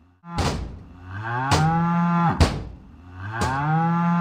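A buffalo moos in four drawn-out, low bellows at a steady pace, each opening with a sharp onset, loud and close with no voices.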